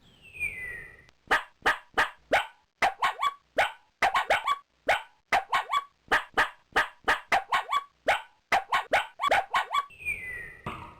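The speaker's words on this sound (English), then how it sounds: "That's how dogs sound." Cartoonish dog barking from a kids' multimedia storybook, a long rapid run of sharp, evenly spaced barks, loud and close, bracketed by a brief descending tone at start and end.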